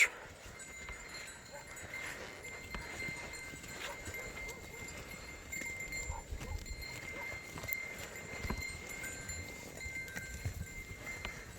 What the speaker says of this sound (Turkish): koyun otluyor.